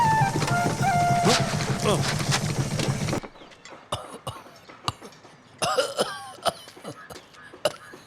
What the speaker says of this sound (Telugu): దగ్గుతున్నావు